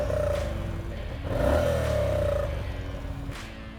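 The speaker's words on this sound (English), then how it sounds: "Let's hear the exhaust a little more." A beginner-friendly motorcycle's exhaust revs up and settles back, a raspy rising and falling engine note heard close by with a brief lull before another short blip.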